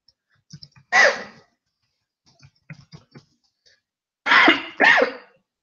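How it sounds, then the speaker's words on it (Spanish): Three sharp coughs, one early and a close pair near the end, with soft clicks and faint rustling between them. "perdón, esta tosecilla que tengo"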